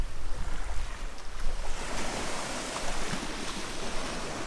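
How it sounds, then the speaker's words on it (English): Gentle waves roll against rocks and sand on a beach, a continuous loud wash of surf with soft surges and some wind buffeting the microphone. "the waves are just rolling up pretty gently up against the rocks and the sand here"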